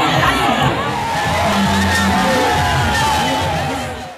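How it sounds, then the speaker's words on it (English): A cheering crowd in Ifaki, Ekiti, shouts and whoops in welcome for former governor Segun Oni, a loud, dense babble of voices swelling and fading. "Whatever side the former governor turned, he found support in the cheery crowd."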